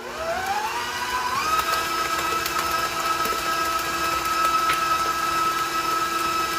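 An electric mixer beating large eggs into cheesecake batter whines as its motor spins up over the first second and a half, then holds a steady, loud hum to the end.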